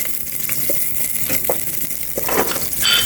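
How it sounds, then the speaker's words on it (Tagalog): Onion sizzles and fries in a pan, a steady crackling hiss with a few stirring scrapes, close and fairly loud. "ilagay mo na yung sibuyas. Lagay ko naman sa isang sibuyas."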